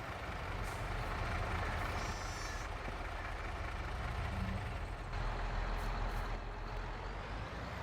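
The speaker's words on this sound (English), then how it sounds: "Better shut the truck off" A truck in Farming Simulator 22 rumbles steadily with engine noise and short bursts of air brake hiss, a continuous low drone under faint mechanical clatter, no talk.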